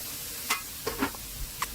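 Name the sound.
stir-frying wood ear fungus with garlic in a wok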